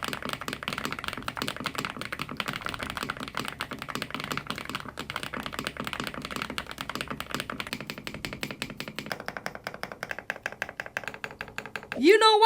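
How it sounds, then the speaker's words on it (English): Rapid typing on a custom-built creamy mechanical keyboard produces a dense, even stream of soft, deep key clacks close up, continuing steadily before a brief louder burst at the end. "Now enjoy my creamy keyboard."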